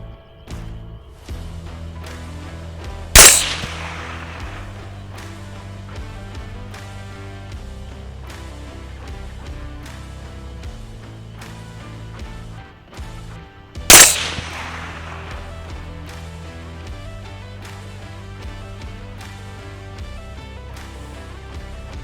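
Two loud, sharp rifle shots firing 50 grain Hornady Superformance rounds crack about ten seconds apart during a thermal hunt, each with a short echoing tail over quiet background hum.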